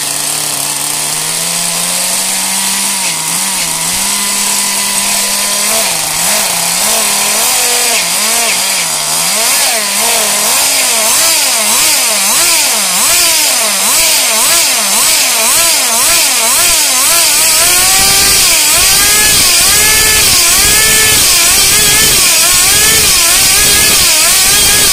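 A nitro-fuelled RC car engine fires up and revs hard, a loud buzzing whine that sweeps up and down in repeated throttle blips before settling into fast, rising high-pitched screaming revs, with no voices over it.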